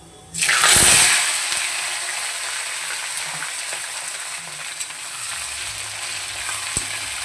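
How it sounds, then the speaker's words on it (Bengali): Vegetables hit hot oil tempered with panch phoron, setting off a loud sudden sizzle that settles into a steady close crackle while they are stirred in the pan. "সবজিগুলো দিয়ে খুব ভালো করে নেড়ে নেব"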